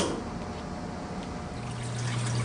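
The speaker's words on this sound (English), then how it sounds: "It'll take a moment for the water trough to fill." Water trickles and pours into the trough of a Manitowoc Neo ice machine during its cleaning cycle, a steady close fill with a low tone rising near the end and no speech.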